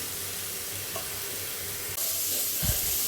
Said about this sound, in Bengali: লাউটা একটু গরম করতেছি ভাজিটা